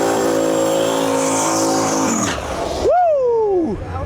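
A 6-liter drag racing car makes a pass at a Medicine Hat drag-and-drive event: a loud, sustained engine roar that cuts off abruptly, then a single rising-and-falling whine as it passes nearby.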